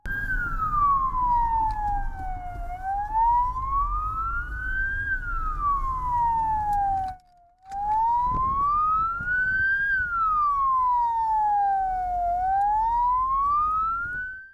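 Ambulance siren in road traffic wailing in slow rising and falling sweeps, loud and near, with one brief cutout midway and faint traffic rumble underneath.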